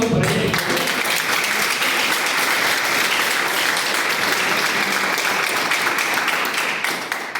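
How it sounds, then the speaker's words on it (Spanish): Audience applause at a conference in Perote rises loud and dense at once and holds steady as a continuous wash of many hands, tapering slightly at the very end. "Un fuerte aplauso para ella."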